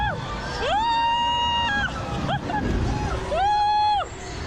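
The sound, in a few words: woman yelling on a VR dragon ride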